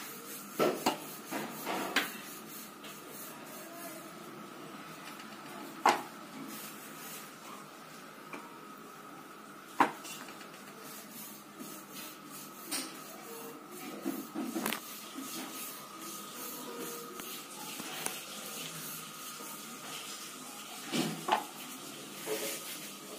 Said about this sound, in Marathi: आता आपण पराठा लाटून घेऊया